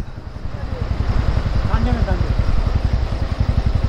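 A motorcycle engine runs with a fast, throbbing low pulse that stays steady and close, while voices talk over it on a mountain trail near Manang.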